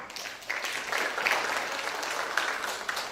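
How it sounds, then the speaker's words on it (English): Audience at a school storytelling competition applauding a contestant, steady clapping from a crowd that swells briefly and carries on for a few seconds. "Let's give another round of applause for contestant number 1."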